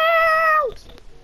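A single clear cat meow in a video game, drawn out and falling in pitch at the end, close and loud, then near silence.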